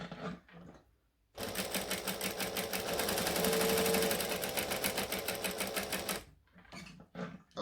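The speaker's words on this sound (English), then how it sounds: "So I'm just going to stitch 1/8 of an inch from the edge." A sewing machine running steadily for about five seconds while top stitching close to a fabric edge, a loud, even mechanical whir and rapid needle rattle, starting and stopping abruptly, with quiet sounds before and after.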